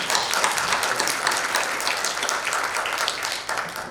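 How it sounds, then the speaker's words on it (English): Conference audience applauding the institute director, dense sustained clapping from a large crowd that holds steady and tapers slightly at the close. "Big applause."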